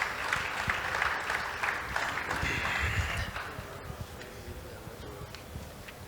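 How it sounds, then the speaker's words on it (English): Audience at a West African residential real estate summit applauding a panel, a brief burst of clapping that is fairly faint and fades within a few seconds. "Can we please give them a round of applause for their contributions?"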